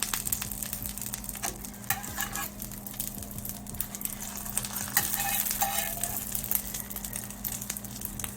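An omelette fries in a pot with a steady crackling sizzle, broken by scraping stirs and a few louder clatters as it is folded, all close and without talk.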